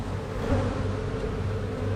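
Honey bees hum steadily around a hive, a dense low drone of many wings close by, continuous and without voices.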